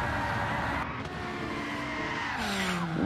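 A GR3 race car in a Daytona racing video game skids off the track with screeching tyres over a loud engine drone, its pitch sliding as the car spins.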